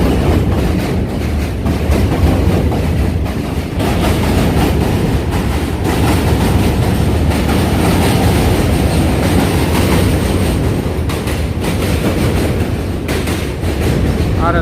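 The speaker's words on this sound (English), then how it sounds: "the trains are going back and forth" Subway trains rumble across the Manhattan Bridge on the Brooklyn side, a loud, continuous roar with clattering wheels and faint high squeals throughout.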